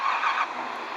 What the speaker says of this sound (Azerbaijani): Maşını xodlayaq.